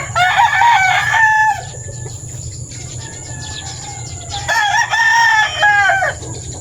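A rooster crows loudly twice beside a rice field, a long strained call near the start and another near the end, over a low steady background hum.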